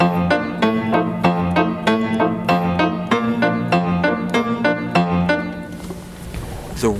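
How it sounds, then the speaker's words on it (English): Ragtime piano left hand alone, pounding out a march-like bass in four beats to the bar with accents on the first and third, low notes alternating with chords in a steady, even rhythm before ringing out at the end. "So this is the left hand in piano ragtime."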